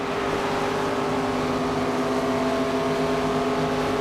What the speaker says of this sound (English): Car outside.